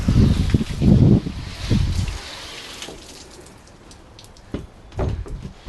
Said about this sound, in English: Just wetting down the board.